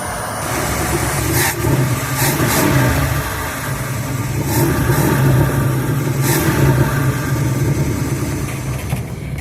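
A steady old camper engine running nearby, a smooth continuous rumble with slight rises in revs, no talking.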